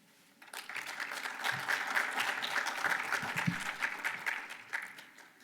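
Audience applause at a conference rises quickly into a steady, fairly distant wash of many hands clapping, then tapers off near the end, with no voices over it.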